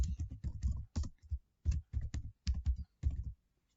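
Keys clack on a computer keyboard in short bursts of typing with brief pauses between them, close and fairly quiet, with no one talking.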